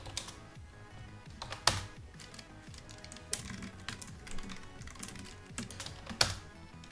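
Steady typing on a computer keyboard while writing a try-catch statement in Java code, a quiet run of clicking keystrokes with a few sharper, louder taps mixed in, no voices.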